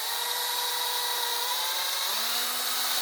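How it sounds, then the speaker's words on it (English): A power drill boring a hole into a wooden dowel whines steadily at a constant high pitch, its motor tone shifting slightly partway through, with no talking. "I will drill a hole in the middle"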